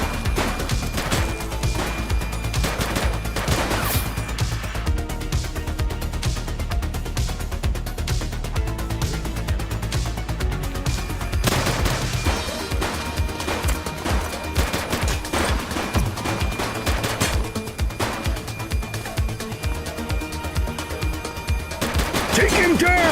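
Gunfire in the police video game The Precinct, bursts of shots and crashes over a loud, continuous bed of music and game effects, with voices calling out during the action.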